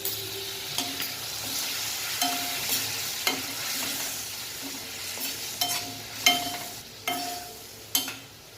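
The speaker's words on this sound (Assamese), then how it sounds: "পানী দি পিনে অকণমান মছলাখিনি লৰাই ল'ম।" Masala for aloo papad sabji gets stirred with water in a pan, where a soft steady sizzle is broken by several sharp spoon clinks and scrapes at irregular intervals.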